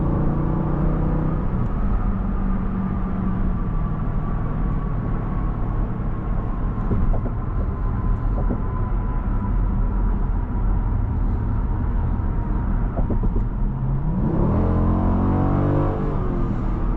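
A 2023 Dodge Durango SRT 392 accelerating hard from inside the cabin, with a steady loud engine roar that rises in pitch and then drops as the transmission shifts gears.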